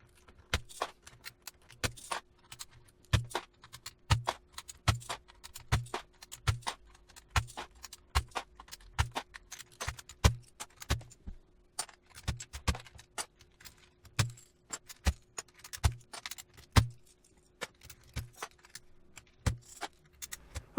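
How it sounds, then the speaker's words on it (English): Plastic keycaps are pried off a vintage Apple Macintosh LC keyboard one after another, giving a steady series of close, sharp clicks and snaps with a little rattling between them, and no talking. "we'll pop off all the key tops and give those a clean separately"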